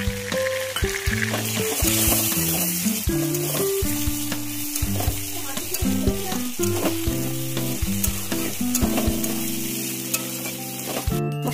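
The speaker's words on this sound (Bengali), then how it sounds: "আলু পেঁয়াজ ভাজাটা হয়েছে, এবার আমি মশলাটা দিয়ে দেবো।" Spice paste of ginger, coriander, chilli, onion and garlic sizzles loudly in hot oil with fried potatoes and onions, a steady crackle broken by frequent scraping stirs, with no talking.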